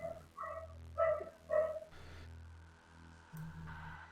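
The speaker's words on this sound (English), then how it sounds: "I didn't even recognize there was a dog in our neighborhood till now." A dog barking somewhere in the neighborhood: three short, faint, tonal barks at an even pace, then fainter noises in a quiet indoor room.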